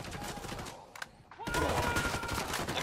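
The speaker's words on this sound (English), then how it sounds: "I'm shooting these fuckers." Gunfire in the video game Ghost Recon Wildlands: a dense, continuous barrage that dips briefly, then returns louder and sustained, with faint voices mixed underneath.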